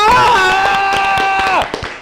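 An audience applauds a professor in a room with steady, rapid claps that run beneath a loud, sustained voice drawing out a long cheer, then trail off as the voice stops.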